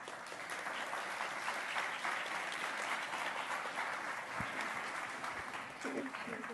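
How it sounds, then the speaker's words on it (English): Sustained applause from a sizable conference audience for a panel, steady and fairly loud throughout with continuous dense clapping. "give them a warm round of applause"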